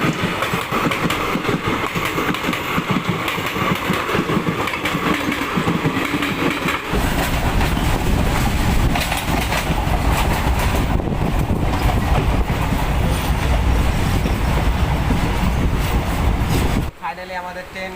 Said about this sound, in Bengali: ফাইনালি আমাদের ট্রেন এখন ধুলিয়ান গঙ্গাতে পৌঁছে গেছে।